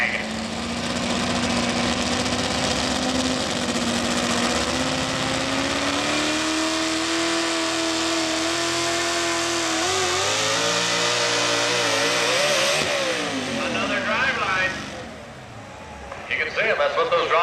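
A modified 4x4 pulling truck engine roars loud and sustained during a pull at an NTPA Grand National truck pull in Fort Recovery, pitch climbing and wavering, then dropping off near the end, with announcers talking over it.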